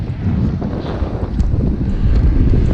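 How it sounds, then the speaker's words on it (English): Cold north wind buffeting the microphone on a group bike ride near Richards, Texas, a loud, continuous low rumble with gusty swells. "The wind is out here, of course."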